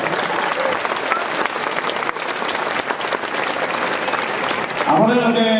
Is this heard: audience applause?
yes